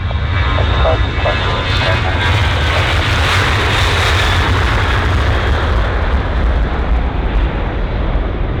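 A jet airliner takes off from runway 27 at Bristol Airport, a loud, steady engine roar with deep low rumble and broadband thrust noise that holds strong and close throughout, with no talk over it.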